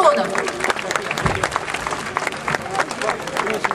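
Audience applause for a band at a concert, sustained dense clapping from a crowd throughout, with a presenter's voice talking over it.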